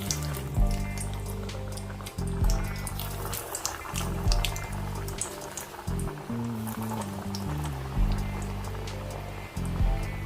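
Breadcrumb-coated fish cutlets fry in hot oil, a continuous bubbling crackle running beneath a steady low droning hum, loud and close throughout.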